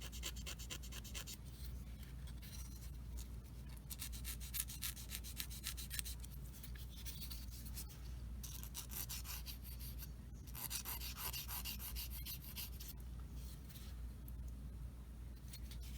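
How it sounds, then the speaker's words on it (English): Someone sands the edge of a plastic part from a Tamiya 1/35 Sd.Kfz. 250/3 Greif scale model kit, making soft, close scraping strokes in uneven bursts over a quiet background hum. "Sand a little bit of the edge off on this so it fits in there nice and tight."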